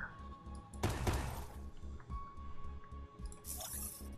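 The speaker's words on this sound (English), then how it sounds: "Use the acid splash." A video game acid splash ability lands with a wet, squishy splatter and dripping burst, followed by softer gooey liquid sounds and a brief bright chime near the end.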